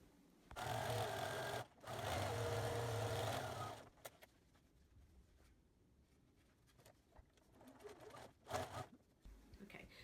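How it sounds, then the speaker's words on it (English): A home sewing machine stitches the seams of a charm-square tote bag in two loud, steady runs, briefly pausing between them, then stops and leaves quiet handling noises and soft rustling. "So I'm going to sew up my seams now."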